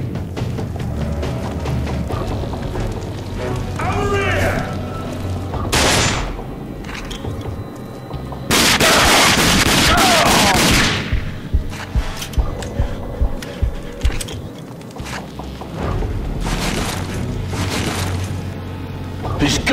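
Pistol gunfire in the video game Rage rings out as scattered sharp shots and booms, with a dense loud burst in the middle and a run of quick rhythmic shots afterward, over game music and sound effects.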